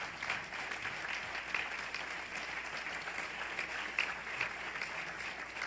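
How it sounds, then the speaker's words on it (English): Audience applause for the Bard College brothers at an event: a fairly distant, steady wash of many hands clapping, even and sustained throughout with no talking over it. "Let's give these brothers a round of applause."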